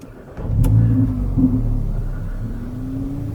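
A Mercedes GLA 45 AMG engine cranks and catches, then settles into a steady low rumbling idle close by, with a slight rev before it evens out.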